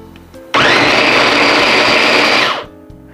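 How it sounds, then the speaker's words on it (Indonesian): An electric chopper coarsely grinds fried sambal ingredients for terasi sambal with no water added, a loud, close, steady whirring buzz that starts suddenly, runs about two seconds and then spins down to quiet. "Setelah digoreng bahan sambalnya, saya giling kasar ya. Saya masukkan ke dalam chopper."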